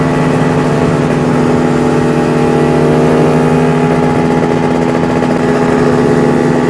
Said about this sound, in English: we'll slow down to about 40 kilometers an hour and see what happens when we pull on third gear